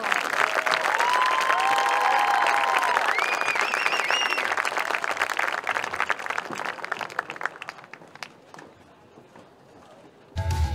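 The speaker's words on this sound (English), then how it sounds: "Let's give our seniors another round of applause" Crowd at a high school football game between the Morgan County Cougars and Magoffin County Hornets applauds the seniors, loud sustained clapping with whistles early on, gradually thinning and fading before a brief burst of other sound at the end.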